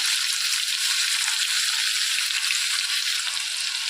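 Curry leaves and crushed garlic sizzle steadily in hot oil, a close, bright crackling hiss that holds evenly the whole time with no talk over it.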